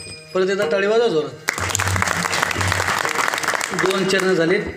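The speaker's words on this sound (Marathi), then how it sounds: "परत एकदा टाळी वाजवा जोरात." An audience at a stage performance breaks into loud, sustained clapping, framed by a singer's amplified voice just before and after the applause.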